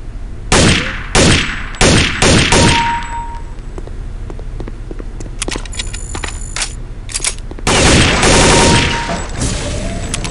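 Gunshots in Counter-Strike at a firing-range training mission: a handful of sharp, loud reports spaced about a second apart, then a quiet stretch with faint metallic clinks, and another burst of shots near the end.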